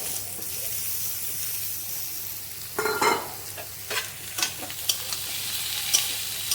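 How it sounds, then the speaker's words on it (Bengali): Eggplant fries alongside onions in a pan, a steady low sizzle broken by several sharper scrapes and stirring clatters from the second half onward, close by and without speech. "আমি বেগুনগুলো দিয়ে দিচ্ছি বেগুনগুলোকেও পেঁয়াজের সঙ্গে ভেজে নেবো"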